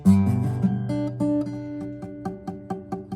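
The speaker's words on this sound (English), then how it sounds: "And you have what's called a dead string." Guitar chord strummed once, then each string picked down one by one, with one string thudding out muted and dead; close, clear plucked notes with no talking.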